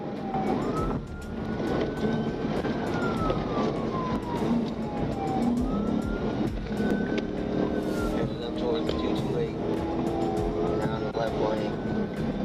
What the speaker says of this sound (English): Lights and sirens were activated, but the suspect refused to stop.